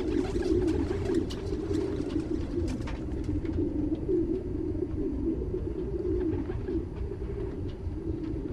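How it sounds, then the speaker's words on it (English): Pigeons cooing in the video game Spider-Man: Miles Morales, a continuous low, throaty coo rolling on throughout against a constant background bed of city ambience, with no talk. "Birds around here."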